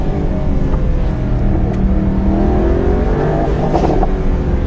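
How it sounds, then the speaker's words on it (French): A 2024 Mercedes-AMG GT 63 Coupe engine revs hard close by, a loud, throaty exhaust rising and falling steadily with no voices. "L'échappement au lever de pied dans les tours là, il est expressif, hein."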